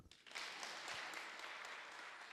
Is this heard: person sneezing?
no